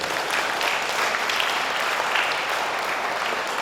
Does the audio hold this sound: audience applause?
yes